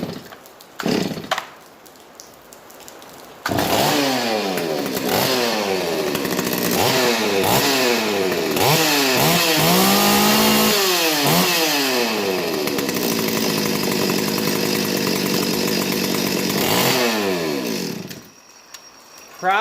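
Rebuilt Stihl 025 chainsaw engine starting up and revving hard in repeated rising and falling bursts, loud and close, then dropping back and cutting off near the end.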